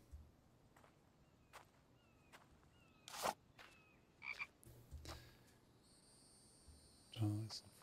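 Frog croaks in a video game survival setting: sharp clicking croaks and chirps ring out several times over a quiet outdoor ambience, with brief thuds and rustles between them.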